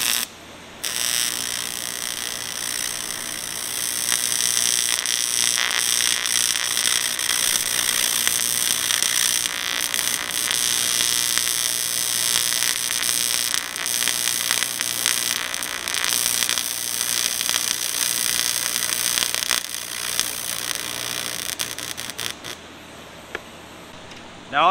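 An AC TIG torch welds a repair on an aluminum water heater, burning black residue out of the metal as it goes: a steady, loud crackling hiss that holds for about twenty seconds before dropping away, with no talk.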